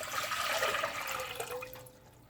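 Water poured into a cooking pot over a medium-high flame on the stove for Jamaican cornmeal porridge, a steady, close splashing stream that tapers off near the end.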